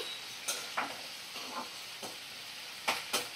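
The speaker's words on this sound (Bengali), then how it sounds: "তো দেখো আমি কিছুক্ষণ একটু ভাজা করে নেব, 2 মিনিটের জন্য ভাজা করে নেব।" Sliced small onions fry in a pan. A soft, steady sizzle runs throughout, broken by several sharp scrapes and stirs of a utensil at irregular intervals.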